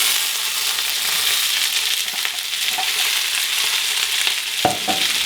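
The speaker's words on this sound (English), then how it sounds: "you'll see some of the almond slices are starting to get brown as well. They're toasting right now." Almond slices toasting in butter in a pan give a dense, even sizzle throughout, with a couple of brief utensil taps near the end.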